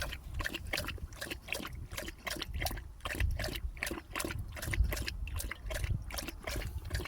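A dog laps water from a bowl, a quick steady run of wet slurping close by.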